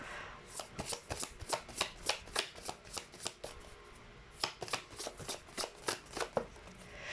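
A deck of tarot cards being shuffled in steady, rhythmic bursts of riffling card slaps, close and clear, continuing throughout with no speech.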